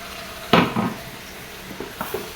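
Cauliflower drops into a pan of spiced vegetable stalks and gets stirred, giving one sharp clatter followed by a few lighter scrapes and knocks of the spoon over a soft, steady sizzle.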